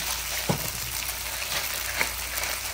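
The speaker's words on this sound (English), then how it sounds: "we'll clear the pan and fry our gnocchi" Close, steady sizzle of gluten-free gnocchi frying in hot oil, with a couple of soft clicks from the pan.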